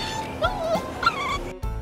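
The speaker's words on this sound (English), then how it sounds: "And then you just put some whimper sounds in the sound mix." A dog's high, wavering whimpers sound in short nasal bursts, two or three soft cries set into a film sound mix over a low background hum.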